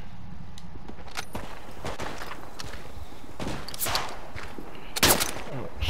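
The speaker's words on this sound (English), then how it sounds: "We're taking fire from our right flank." Gunfire from the right flank in the WWI video game Tannenberg, with scattered cracking shots and bursts at mixed distances, the loudest one near the end, over a constant battlefield rumble.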